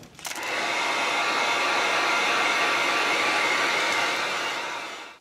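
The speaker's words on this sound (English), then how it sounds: "Now, I'm going to hit the heat gun." Heat gun blowing a steady, loud stream of hot air to dry fresh black paint, starting abruptly and holding an even roar for about five seconds before tapering off.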